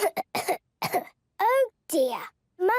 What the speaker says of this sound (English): Monkey has a bad cough.